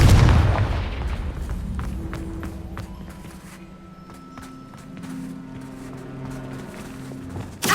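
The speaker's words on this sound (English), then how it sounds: "Confringo! Bombarda! Confringo!" Magic spell blasts in the Hogwarts Legacy video game, a loud booming impact at the start followed by scattered cracking hits, footsteps and quieter rumbling, with another burst at the end.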